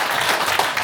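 Attendees at an annual general meeting break into applause, a dense, even wash of clapping filling the brief moment.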